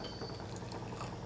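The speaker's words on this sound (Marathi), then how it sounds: "आणि हे गरम पाणी करून घेतलेलं मी गरम पाणी टाकते." Hot water is poured into a pan of amti, a spicy dal curry, giving a steady, close, bubbling liquid rush that stays even and continuous for a brief moment, with no voices.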